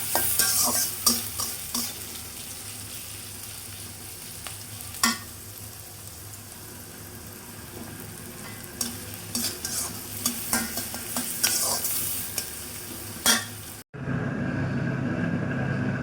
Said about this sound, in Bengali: দেখতেই পাচ্ছেন ডালটা ফুটছে।